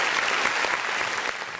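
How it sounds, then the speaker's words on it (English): A hand clap sound effect plays on a podcast as a short, loud burst of crowd-style applause, dense and even throughout. "Let me give you a hand clap."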